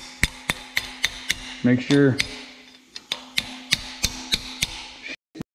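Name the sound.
tapping bolts with a hammer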